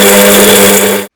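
A kitchen mixer grinder whirs loudly and steadily as it crushes black pepper and cumin seeds, a dense continuous motor drone for about a second before cutting off abruptly.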